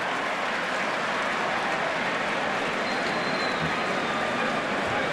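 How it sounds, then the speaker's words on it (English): Red Sox fans cheering at Yankee Stadium during a Yankees game, a steady broad crowd roar filling the whole stretch at a distance, with no distinct voices standing out. "There are a lot of Red Sox fans here at Yankee Stadium, and we can hear them periodically cheering a play by Youkilis"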